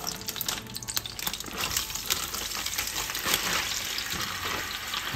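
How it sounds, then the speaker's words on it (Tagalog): Marinated beef tapa sizzles steadily in a pan still greasy from frying eggs, a dense, crackling hiss with small pops and scrapes that runs close and unbroken for several seconds. "Sa pinagpirituhan ng itlog, dahan-dahan po natin ilagay ang tapa."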